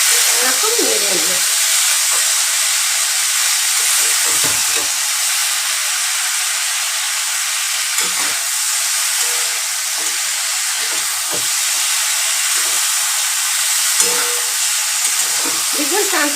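Okra fries in a pan and gets stirred, making a loud continuous sizzle and hiss close up, broken by repeated scraping strokes of the spatula.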